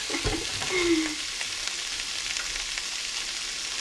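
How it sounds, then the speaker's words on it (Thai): Vegetables being stir-fried in a pan until wilted for a cod gratin, a steady close sizzle with a brief clatter of utensils near the start. "ผัดแค่ผัดแค่ให้มันผักมันยุบอะค่ะ"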